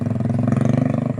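Motorcycle engine running close by at a steady, rhythmic throb, loud and continuous with pulsing firing beats and no voices over it.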